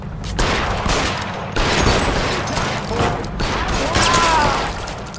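A shootout in L.A. Noire, with loud, close bursts of gunfire in several volleys separated by brief pauses and a faint ricochet-like whine.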